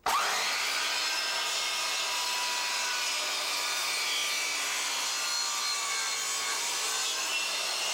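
A Triton Workcentre saw makes a bevel cut through MDF. After a sharp start it settles into a steady, loud whining cut that lasts about eight seconds, with no talking.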